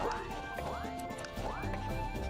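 Horse sounds from an indie video game, repeated whinny-like calls with gliding pitch sweeps about every half second, over steady game background noise.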